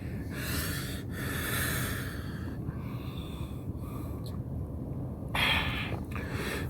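Slow, deliberate breaths during a relaxation exercise, several drawn in and pushed out in turn, close and fairly loud with no talking over them.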